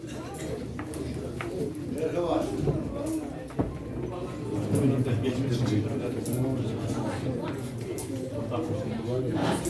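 Pigeons coo repeatedly at a pigeon auction in Çorum, with a crowd of voices talking and bidding loudly over the birds throughout.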